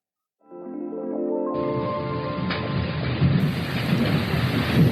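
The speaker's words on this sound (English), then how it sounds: "That's the sound of rain outside of my apartment here in Tokyo." Heavy rain pouring outside an apartment in Tokyo during torrential seasonal downpours, a loud steady wash that swells in quickly and stays dense, with a low rumble underneath and no voices.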